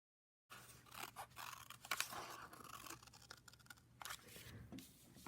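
Scissors snipping paper to cut lines for a paper weaving loom: quiet, close, repeated crisp cuts with short pauses, no voices.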